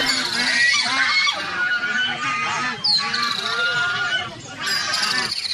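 Cartoon ducks on a farm honking in a quick series of nasal calls, fairly close and loud, with short pauses between bursts.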